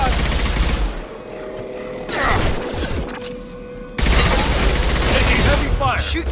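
Heavy gunfire in the Mass Effect 2 game during a colony firefight, loud overlapping shots in clustered bursts that cut off abruptly and then resume in a dense volley.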